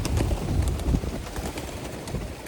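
Soft, low cooing of pigeons nearby against a steady outdoor rumble, the murmuring calls overlapping without clear pauses.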